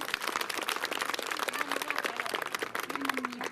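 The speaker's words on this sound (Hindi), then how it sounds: "एक बार जोरदार तालियां बजा दीजिए" Crowd applause at a village panchayat visit by an MLA in Chamba, dense clapping throughout, with a faint tonal whine and background murmur underneath.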